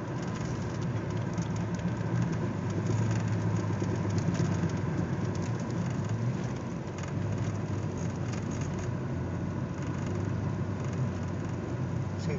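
Imperial car engine running steadily from inside the cabin while the driver feathers the gas, a continuous low rumbling drone with broadband road noise and no sharp revving.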